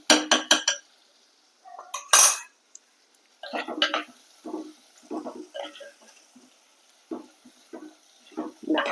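A spoon scrapes and clinks against a pan while chayote curry is stirred, in short irregular bursts with pauses between, under a faint background hiss.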